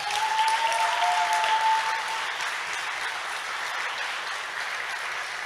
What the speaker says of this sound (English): So please, one big round of applause for them.